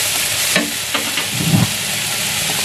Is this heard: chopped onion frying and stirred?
yes